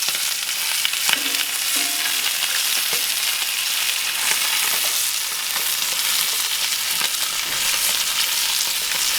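Steak sears steadily in a cast iron skillet, a dense, continuous sizzle with crackling pops, fairly loud and close, with occasional faint clinks and no talking.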